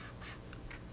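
Writing on a board, short scratchy strokes in quick bursts over about a second, close and fairly quiet, with no speech.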